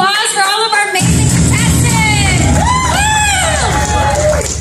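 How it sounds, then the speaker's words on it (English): A convention crowd at a Miami cosplay contest cheers for the contestants, with whoops and shouts rising over a dense babble of voices, loud and close throughout. "Let's give a last round of applause for all of our amazing"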